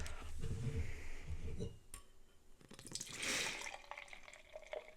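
Beer splashes and gurgles into a glass, with clinks and a brief hiss of foam, fairly quiet with no talking.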